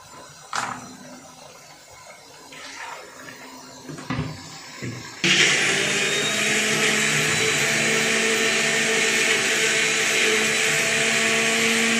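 An electric blender grinds fifty grams each of green chillies and fresh ginger, starting after a few light knocks and taps with a loud, steady whirring motor drone that runs continuously to the end.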